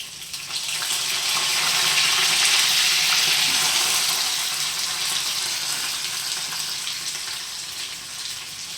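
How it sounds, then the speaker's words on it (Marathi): Garlic and curry leaves frying in hot oil in a kadhai, giving a steady loud hiss and crackle that swells over the first few seconds and holds throughout, with no talking. "तेल छान तापलेलं आहे. आपण आता लसूण टाकून घेऊया."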